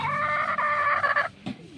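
Muddy pet chickens give a loud, steady fowl call with strong harmonic tone lasting over a second, then a brief lower cluck follows after a short gap.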